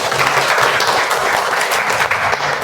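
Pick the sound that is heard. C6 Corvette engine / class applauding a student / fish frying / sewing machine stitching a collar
class applauding a student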